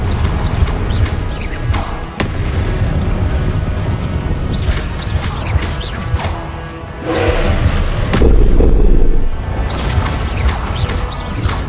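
Spell explosions from Confringo in the video game Hogwarts Legacy burst out as a series of loud crashing blasts over a constant rumbling game soundscape, with thuds and impacts scattered throughout.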